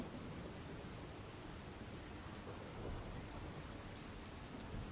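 Heavy rain pours down in Surat in a dense, steady wash with scattered drops striking surfaces, no voices heard.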